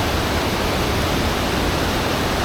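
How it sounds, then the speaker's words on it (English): A Yorkshire waterfall at Wensley pours from a tunnel through branches across moss-covered rocks, giving a steady, broadband roar that is close and loud with no variation. "I'm absolutely loving the waterfall coming from that tunnel at the top all the way down under these branches and across these moss covered rocks"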